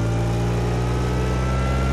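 Birkin Blower car engine pulling hard uphill in second gear at near walking pace, a loud, deep, steady harmonic drone with rich low rumble, heard close and alone.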